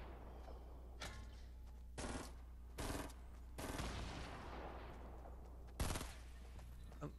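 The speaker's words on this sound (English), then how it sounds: "Was that him shooting?" Gunfire in the video game Fortnite sounds as several sharp bursts of shots spread over a few seconds, fairly quiet overall, over a low steady background hum with no talking.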